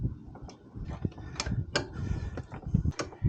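A ratchet tightens bolts on a Honda GoldWing GL1800 trunk rack, making a series of close, irregular clicks and metallic ticks with light handling noise.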